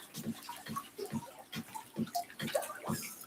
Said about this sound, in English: We'll just give the plants a water.